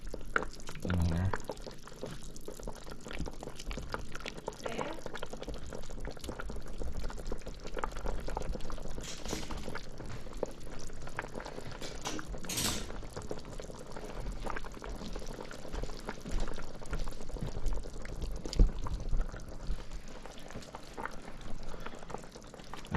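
Pieces of fried snapper go into a pot of simmering home-cooked stew with potatoes, giving a continuous soft bubbling hiss with small splashes and a few clinks, fairly quiet and without talk.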